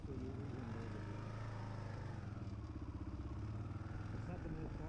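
A KLR650 dual-sport motorcycle runs with a continuous low, throbbing single-cylinder drone, steady and fairly loud, mixed with rough wind noise throughout.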